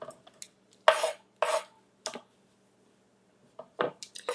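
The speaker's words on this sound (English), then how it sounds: "I'll take the knife through and mince them" A kitchen knife chopping and mincing garlic on a cutting board, several sharp knocks clustered in short bursts with quiet gaps between, close and fairly loud.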